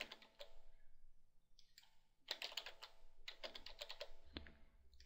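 Short bursts of computer keyboard keys tapped while a password is typed, quiet close clicks in clusters separated by pauses.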